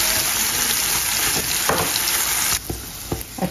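Food sizzles loudly in leftover oil in a non-stick pan, a dense steady crackle close to the ear that drops noticeably after a couple of seconds, with a few soft scrapes and knocks.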